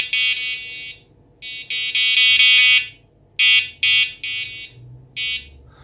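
Loud electronic beeps from a small fishing bite alarm receiver, sounding in several bursts of a high pitched tone separated by short pauses.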